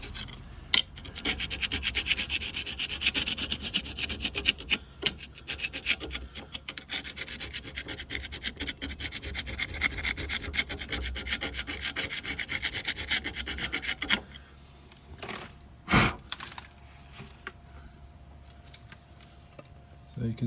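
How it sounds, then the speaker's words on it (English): A scribe or screwdriver scratching a marking line on metal during front shock replacement on a 2011 SEAT Leon 1.2 TSI, a long close rasping rub with clinking metal, then quieter handling noises with a brief knock. "we'll get a scribe or a screwdriver and just mark a line on it"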